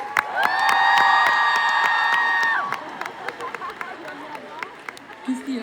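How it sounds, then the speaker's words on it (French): A live concert audience applauds and cheers loudly for about two and a half seconds, with whoops and a sustained shout over dense clapping, which then thins into scattered claps and crowd murmur. "On peut applaudir très très fort Eugénie et Léo"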